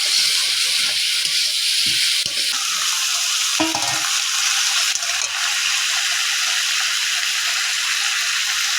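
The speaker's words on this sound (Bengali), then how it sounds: "ভালো করে নাড়তে হবে, ভাজতে অনেকক্ষণ।" Crab being stirred and fried in a pan with tomato and eggplant, a steady loud sizzle running throughout with scraping stir strokes breaking through now and then.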